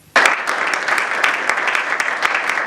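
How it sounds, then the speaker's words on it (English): Audience applause for a government minister at a London gathering, bursting in abruptly and continuing as steady, moderately dense clapping with distinct individual claps standing out. "the minister's response to all these issues earned him applause from his"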